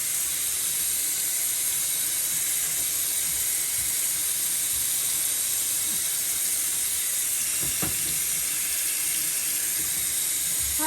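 Tap water running steadily into a sink while waiting for it to warm, a constant close hissing splash lasting throughout with a few faint clinks near the end.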